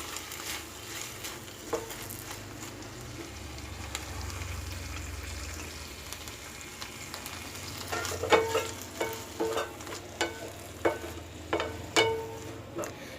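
Tamarind, finely chopped mint and coriander leaves sautéing lightly in a pan for chutney, a steady soft sizzle with a run of sharper spatula scrapes and clicks in the latter half, fairly close and moderate in level.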